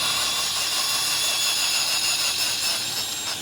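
A steady high-pitched motorized whir runs continuously, loud and close, a rotary brush spinning against a fabric car seat.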